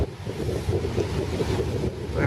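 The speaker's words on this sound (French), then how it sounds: "Il y a du vent, les amis, ça vente là." Strong wind at a park beach buffets the microphone in a loud, continuous roar with gusty low rumbling and surf-like rushing. No one speaks.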